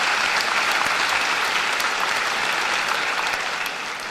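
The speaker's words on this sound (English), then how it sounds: "So give them a round of applause for the awesome job they did for cross country." At a 2017 Cumberland County high school graduation, the audience applauds cross country athletes, a dense, loud, continuous roar of clapping that eases slightly at the end.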